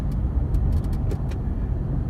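Cabin sound of a 2009 Dodge Ram 1500 pickup with a 5.7 V8 and 220,000 miles, a steady low engine and road rumble while driving as the automatic transmission shifts smoothly, with a few faint clicks above it.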